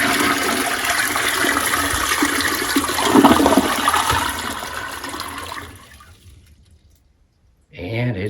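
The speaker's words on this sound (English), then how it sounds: "out of the tank and into the toilet under pressure, creating that flush" A pressure-assisted toilet flushes during a simulated power outage, its loud broadband rush of water churning for about five seconds, surging midway, then fading to silence with no tank refill; a voice briefly follows at the end.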